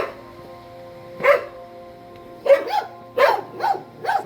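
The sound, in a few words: dogs barking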